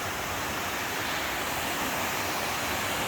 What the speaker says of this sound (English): Here's the waterfall, and you can see that's where the water was coming into the tunnel.